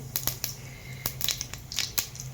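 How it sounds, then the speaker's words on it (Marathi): Mustard seeds sputtering in hot oil, a series of sharp, irregular pops and crackles, fairly close, over a faint low hum. "इथं आपलं तेल गरम झालेलं आहे, मोहरी टाकलेली आहे."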